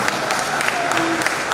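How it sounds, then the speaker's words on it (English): A crowd at a university gathering breaks into a short burst of steady applause, a dense patter of many hands clapping together. "A round of applause, please."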